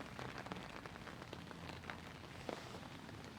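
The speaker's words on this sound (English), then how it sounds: "this rain's really getting heavy now" Heavy rain falling outdoors, a faint, dense patter of drops with occasional sharper splashes, steady throughout with no talking.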